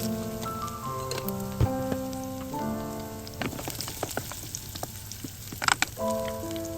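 Dried chilies, rampe and curry leaves tempering in hot oil for a Sri Lankan manioc curry, a steady close sizzle and crackle with scattered pops, while music plays over it.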